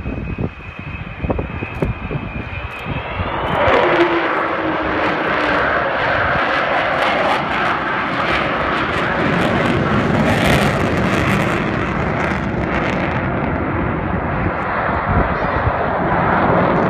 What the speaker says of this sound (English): he's flying the Vulcan today as we watch